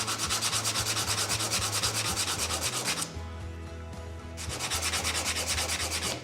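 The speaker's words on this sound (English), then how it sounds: "remember, it goes fast with 80 grit sandpaper" Close, rhythmic rasping of an 80-grit sandpaper block worked back and forth over a wooden trimmer, fast even strokes with a brief pause midway before the sanding resumes.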